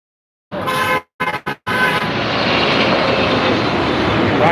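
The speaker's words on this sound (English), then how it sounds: "right here where the planes come in" A loud, steady airplane roar sits close overhead on an approach path near the Los Angeles airport, cut by a few abrupt dropouts at the start before holding continuous.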